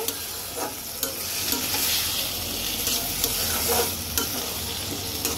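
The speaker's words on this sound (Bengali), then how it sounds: "এখন আমি সামান্য পরিমাণে জল দেব মশলাটাকে কষানোর জন্য।" Spice masala frying in a pan with a splash of water for a stinging catfish curry, loud continuous sizzling under repeated scraping stirs, close and without speech.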